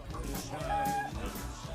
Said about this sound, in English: This was our rooster, Chanticleer